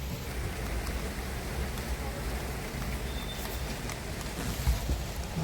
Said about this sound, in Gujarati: અહીંયા એટલો ફૂલ વરસાદ ચાલુ થઈ ગયો છે